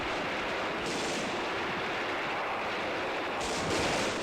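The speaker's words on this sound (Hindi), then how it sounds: "सुन रहे हैं सर फायरिंग की आवाजें?" Continuous gunfire in a drama scene: a dense, steady roar of rapid shots and bursts runs throughout without a break, loud and close.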